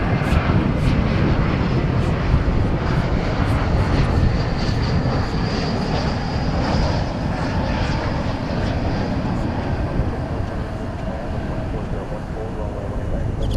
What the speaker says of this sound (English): Another A321 arrival.